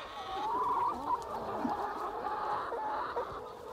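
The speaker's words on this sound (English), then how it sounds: "These are pasture free range hens," Pastured free-range hens cluck and murmur steadily in a flock, a busy layered chatter with occasional sharper calls rising above the continuous farmyard noise.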